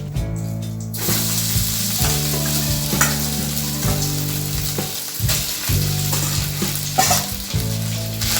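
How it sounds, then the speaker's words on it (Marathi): Rice frying in ghee with cashew and almond slices crackles in a loud, continuous sizzle, with a spatula scraping and turning it at a steady pace close by after a brief quieter start. "आणि आता त्यामध्ये राहिलेला भात घालतोय आपण।"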